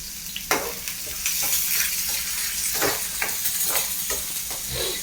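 Onions sautéing in a pan, a loud close crackle and sizzle punctuated by regular scraping strokes of a spatula stirring, continuous and free of talk.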